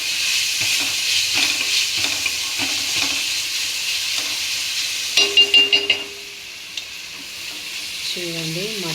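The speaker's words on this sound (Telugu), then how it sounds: "మటన్ది కొంచెం అల్లుల్లిపాయ పేస్ట్ స్మెల్ వెళ్ళిపోయే వరకు కలుపుకొని నెక్స్ట్ మటన్ని వేసేయడమే" Mutton stirred into ginger-garlic paste in a frying pan sizzles steadily, with spoon scrapes and stirring clatter up close, a brief clinking burst and a faint tonal sound near the end.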